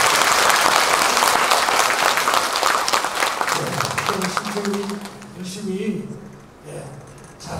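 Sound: audience applause

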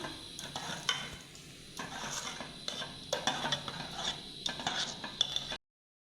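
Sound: stirring boiled toor dal into spices in a pan

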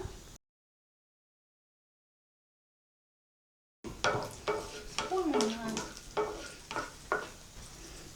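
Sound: cashew nuts frying in a pan

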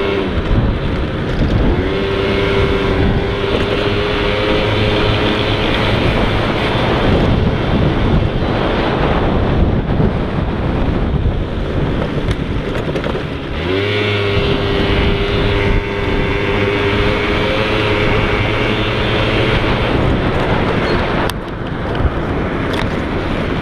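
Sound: moped engine riding

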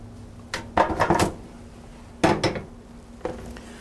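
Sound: metal grate and pan placed over stove heat

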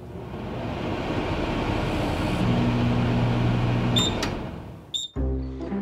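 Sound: microwave oven running at maximum power, cooking bread

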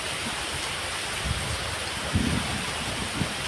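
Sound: heavy rain falling

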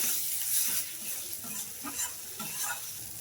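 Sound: spice paste with turmeric being sautéed

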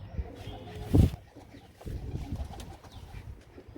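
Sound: pigeons

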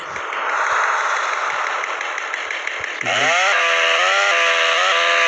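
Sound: chainsaw swung in video game GTA San Andreas

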